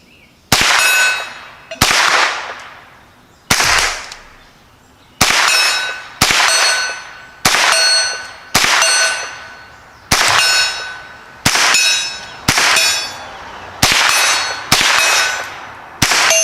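An ATI GSG16 rifle fires different ammunition in about a dozen loud, sharp shots at uneven intervals of one to two seconds, each ringing out briefly before the next.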